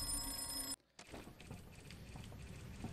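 A telephone rings in the Enter the Matrix video game, a steady electronic ring that cuts out briefly and then resumes amid game ambience with some background sounds.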